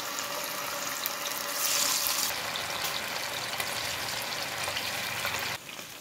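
Anchovies (nethili) frying in hot oil in a pan, a steady close sizzle with a brief brighter hiss partway through, then dropping quieter near the end, with no talking.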